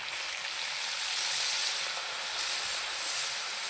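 Steady, loud hissing sizzle as water hits ground ginger, cumin and chili paste frying in a pan, continuous and unbroken with no talk.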